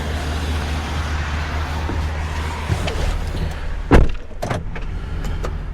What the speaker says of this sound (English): So let's get in, pull the truck out.